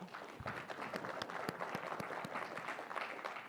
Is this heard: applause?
yes